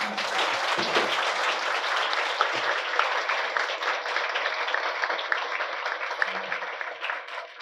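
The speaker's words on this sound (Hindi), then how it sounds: "तो एक बार सब खड़े होकर के फिर से इन तीनों के लिए एक बार ताली बजाओगे" A standing audience at a Hindi-language public dialogue event applauds steadily, a dense, sustained wash of clapping from many hands that holds evenly for the whole stretch, fairly close and loud.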